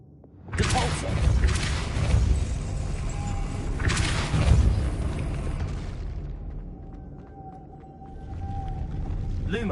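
The Depulso spell cast in Hogwarts Legacy lands as a heavy, booming whoosh that swells twice over several seconds before settling into a low hum, loud and close.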